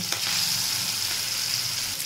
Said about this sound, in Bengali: এবার আমি মাছটা তেলের মধ্যে দিয়ে দিচ্ছি, দিয়ে মাছগুলো ভেজে নিচ্ছি।